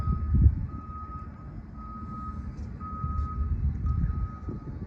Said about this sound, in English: The trash trucks and that bell going off, caution bell.